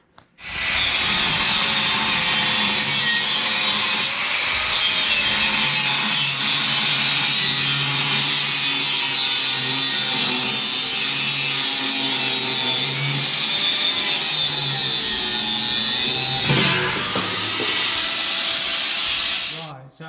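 Steel Harley Softail motorcycle frame rails being sawn through, a loud, continuous grinding, hissing cut that runs steadily for nearly twenty seconds close up, with a brief change in tone toward the end.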